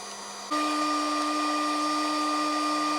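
A VFD-controlled H100 CNC spindle motor runs at about 12,000 RPM, jumping from a lower tone to a steady, loud electric whine with sharp tonal overtones that hold evenly and close by.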